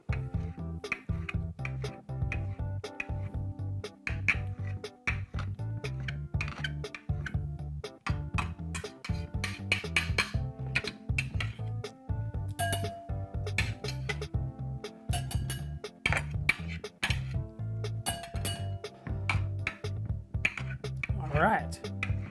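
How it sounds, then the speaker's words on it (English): A sharp knife slices Roma tomatoes on a cutting board, producing repeated crisp taps and clicks at an uneven rhythm under continuous talking. "I'm using a pretty sharp knife. Obviously makes your cutting a lot better if your knife is nice and sharp."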